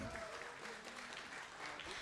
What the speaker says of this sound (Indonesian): Padahal belum di-announce ya tapi udah pada tepuk tangan.